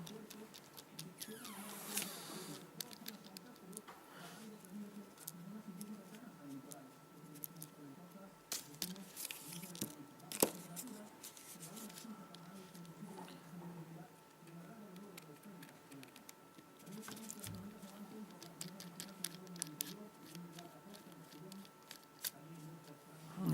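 Small screws being worked out of a Cowon C2 media player during a screen repair: soft repeated ticks, clicks and scrapes of a small screwdriver, close and faint, under a steady low hum with faint speech.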